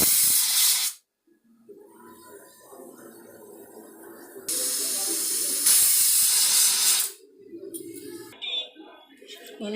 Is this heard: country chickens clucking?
no